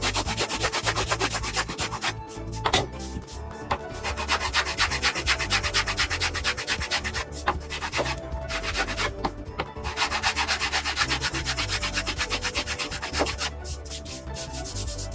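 Rhythmic back-and-forth rubbing of sandpaper on a wooden radius sanding block used for shaping a guitar fretboard, steady close scraping strokes with brief pauses between passes.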